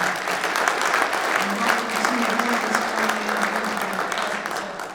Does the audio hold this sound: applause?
yes